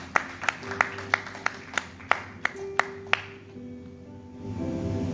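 A church congregation claps in a loose, brisk rhythm, about a dozen sharp claps spread over three seconds before fading into a quieter room murmur.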